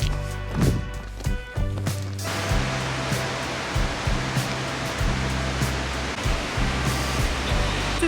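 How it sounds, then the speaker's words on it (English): A waterfall roars as a dense, steady wash of rushing water. A few brief low bumps and handling noises come in at first, and then the roar holds constant and fairly loud. "Waterfall is there."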